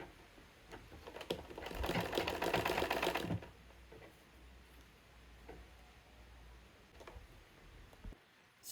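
Sewing machine stitching a fabric bodice block with a half-inch seam allowance, a fast steady mechanical whir running for about two seconds, then quiet room with faint clicks.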